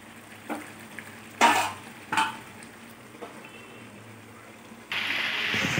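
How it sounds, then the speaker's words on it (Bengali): Chicken is stirred and fried in oil in a pan, with several sharp spatula scrapes and knocks over a quiet sizzle. Toward the end a louder, steady frying hiss takes over. "মাংসটা এখনো কষানো হচ্ছে, তেলটা ছাড়িনি, এই জন্য একটু কষাবো।"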